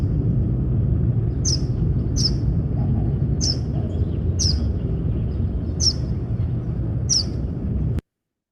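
A bird repeats a short, high call six times at a steady pace, fairly distant, over a constant low rumble of traffic and wind noise that cuts off abruptly at the end.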